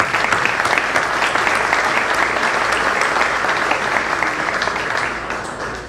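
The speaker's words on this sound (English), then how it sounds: "How about a round of applause?" An audience applauds at Ohio University Eastern's 60th anniversary gala, a dense, steady wash of many hands clapping that slowly fades toward the end, with no voice over it.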